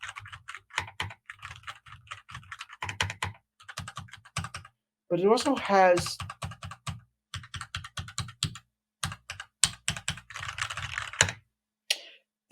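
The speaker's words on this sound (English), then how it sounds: "the keys in the middle of the keyboard have a springy sound" Keys on a solid gaming keyboard with springy switches clatter in quick typing bursts between stretches of someone talking, with one fuller flurry of keystrokes standing alone near the middle.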